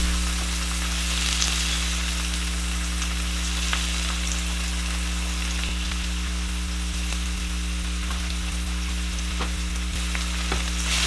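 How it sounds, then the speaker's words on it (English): Onions and red peppers sautéing in a pan with a steady, even sizzle and crackle that holds unbroken throughout, close and moderately loud, with no talk. "Now I'm gonna let the onions and the red peppers just cook down a little bit."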